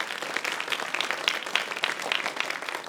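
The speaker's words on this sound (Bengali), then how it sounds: "দুই বন্ধুর জন্য হবে বড় হাততালি।" A studio audience at a children's science magic TV show claps for two young performers, a short burst of fairly even, moderately loud applause that runs the whole moment without talking.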